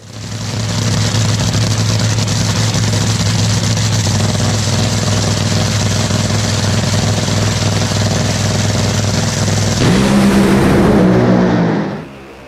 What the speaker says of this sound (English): that Rick Ware racing car is running pretty solid right now